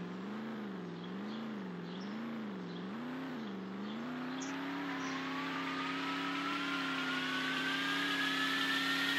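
Koenigsegg One:1 engine in the Roblox driving game, a continuous mid-pitched drone that wavers at first, then steadies and climbs as the car speeds up, with a thin whine rising over it.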